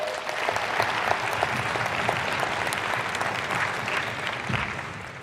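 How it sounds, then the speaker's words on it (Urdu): A seated audience claps together at an Islamic talk on careers, a dense, steady burst of applause close by that holds for several seconds before tapering slightly, with no voices over it. "تالی بجانی پڑتی ہے نا"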